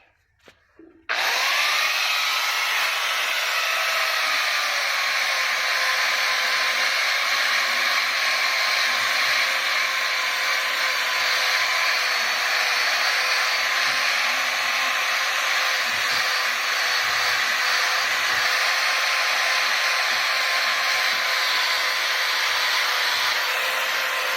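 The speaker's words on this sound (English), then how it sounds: "You want to see me grind? Watch this." A grinder starts up and runs continuously while building a trimaran boat in the Philippines, a loud close high whine that spins up quickly then holds steady for over twenty seconds, with faint rubbing against the workpiece.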